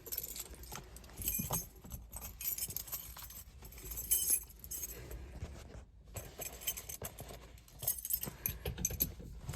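A bunch of keys jangles near a 1989 Ford Mustang with a Coyote swap, metallic chinks and rattles in several bursts over a quiet background, close and fairly soft.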